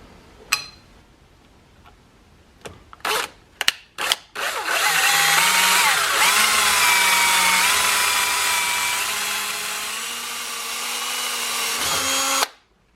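A power drill bores a hole through a forged knife part, starting with a few sharp clicks and taps before a steady, loud whine runs for about eight seconds and then cuts off abruptly.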